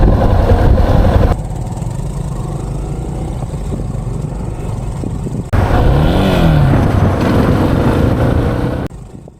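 Yamaha Serow 250 motorcycle ridden by a beginner, engine droning loud and close with wind rush, a shift in tone midway as revs rise and fall, then cutting out near the end.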